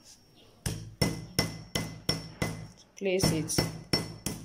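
A rivet on a handmade sandal is hammered down against an iron block, giving a steady run of sharp metallic strikes about once a second, loud and close, with a brief spoken word partway through.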